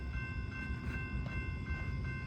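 Norfolk Southern southbound freight train 153, led by two C6M locomotives, rumbling past at steady volume with dense low-frequency drone and faint high tonal ringing, no voices.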